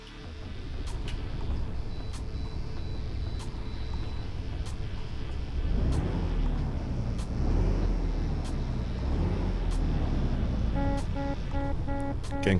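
International LT truck engine in American Truck Simulator cranking and catching into a loud, rumbling idle that swells and settles, with periodic clicks and a brief repeating electronic beep near the end.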